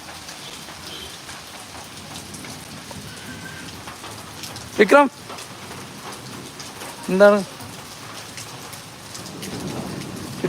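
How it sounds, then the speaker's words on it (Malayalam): Steady rain falls on a surface in hot weather, with two short, loud rolling rumbles of thunder close by; someone speaks briefly over the downpour. "വിക്രമിൻ്റെ ആദ്യത്തെ മഴയാണ്."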